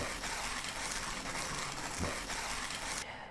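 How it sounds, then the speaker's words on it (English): A manual coffee grinder laid flat and cranked slowly, grinding coffee beans; a continuous, close, gritty grinding rasp that holds steady throughout, with no talking. "I recommend laying it flat and grinding slowly"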